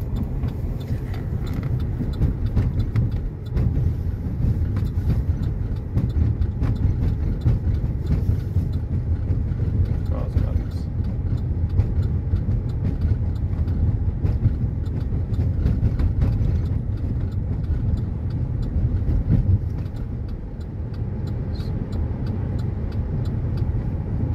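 A car rolls in neutral near Madinah, picking up speed with no gear engaged. A steady, close hum of road and tyre noise runs continuously throughout.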